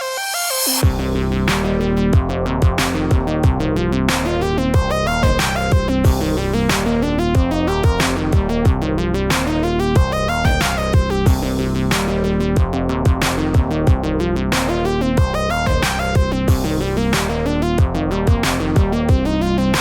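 A synthesizer arpeggio made with Europa in Reason 12 plays rapid repeating notes in a steady rhythm, bright and continuous, with regular accented pulses throughout.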